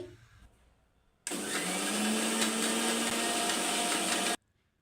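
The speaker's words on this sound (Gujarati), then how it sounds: "આ રીતે આપણે મિક્સર ફેરવી લેવાનું એક આપણે થોડીક વાર માટે" Kitchen mixer grinder running with water inside to clean it starts abruptly, whirs loudly and steadily for about three seconds, then cuts off sharply, with quiet before and after.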